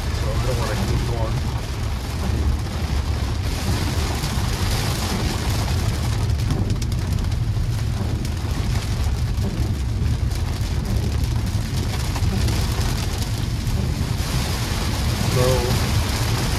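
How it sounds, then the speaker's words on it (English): Heavy rain pounds a car on the road in Jupiter, Florida, a dense constant roar of water on the roof and glass over a low road rumble, unbroken throughout. "it's raining really bad right now"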